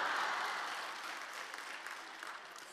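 Church congregation applauding at an evening thanksgiving service, a broad even wash of clapping that starts strong and gradually thins and fades over a few seconds with no voices.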